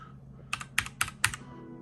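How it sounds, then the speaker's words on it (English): Typing on an Alienware Pro AW768 mechanical keyboard with blue backlighting: four or five crisp, close key clicks in a quick uneven burst over a faint hum, no voices. "It's a really good keyboard"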